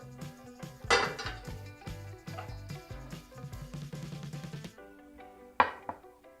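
A knife cutting a kimchi pancake clatters and taps against a chopping board and dishes in a quick irregular series, close and fairly quiet, ending with a sharper knock.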